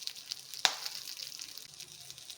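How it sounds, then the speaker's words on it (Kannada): Fennel seeds, kasuri methi and other spices frying in hot oil in a pan for chicken biryani, a faint continuous sizzle with one brief sharp crackle near the start, close by with no talk. "ಇದೆಲ್ಲ ಚೆನ್ನಾಗಿ ಫ್ರೈ ಮಾಡ್ಕೊಳ್ಳೋಣ"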